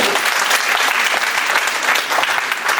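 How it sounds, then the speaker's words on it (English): Brisk audience applause at a teachers' training session, dense rapid clapping from a room full of people throughout a short burst. "You should clap louder."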